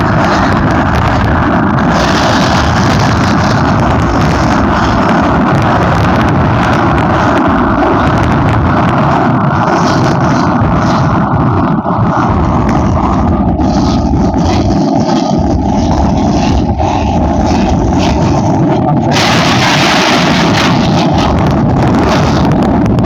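A Bajaj Pulsar N160 motorcycle is ridden fast along a road at night, its engine droning steadily under heavy buffeting wind roar, loud and continuous with shifts in intensity as speed changes.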